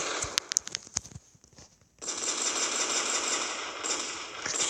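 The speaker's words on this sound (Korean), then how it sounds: "연발" A gun from a video game gun mod fires in rapid bursts: a quick run of crisp close shots, a short pause, then a dense continuous rattle of sustained automatic fire that keeps going to the end, with no speech.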